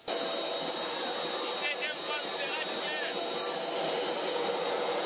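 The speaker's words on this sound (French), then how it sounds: "le Premier ministre Matata Ponyo a repris son avion pour Kindu" A jet engine roars steadily as the prime minister's airplane departs, a broad continuous rush with a thin high whine running throughout and faint voices briefly underneath.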